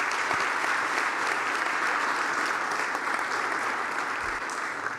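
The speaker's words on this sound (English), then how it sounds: "they really deserve the round of applause from everybody in this room" A room full of people applauds UConn's back-to-back NCAA champion basketball players, the clapping steady and fairly even, moderately loud and continuous with no talk over it.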